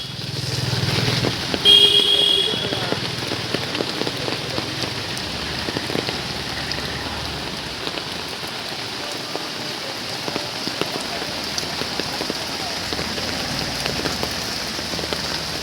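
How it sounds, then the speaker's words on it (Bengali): Rain pours steadily at an outdoor Eid cattle market on the Circuit House field in Mymensingh, a dense hiss of drops on surfaces with faint engine noise passing in the background. "ঐতিহাসিক সেকেন্ড হাউস মাঠে বৃষ্টি"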